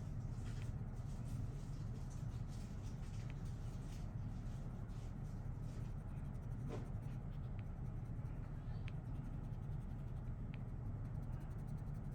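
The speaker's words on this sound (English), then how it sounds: "Doing a little bit of burnishing with my Prismacolor, my white Prismacolor here" A white Prismacolor colored pencil burnishes over paper while shading a pink rose, giving a steady, soft, close scratching rub that continues throughout without any talk.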